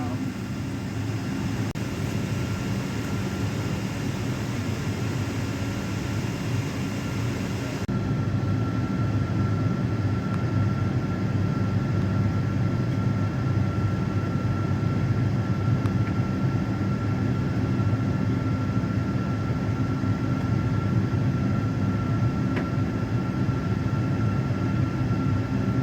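Steady cabin hum and engine drone inside a nearly empty airliner waiting to take off, constant and close throughout.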